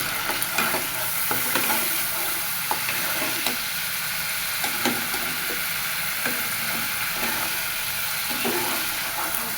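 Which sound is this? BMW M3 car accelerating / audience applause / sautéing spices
sautéing spices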